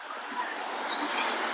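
Sea waves wash in at an open beach on the Corniche in Abu Dhabi, heard as a brief, soft, hissing surf with some wind.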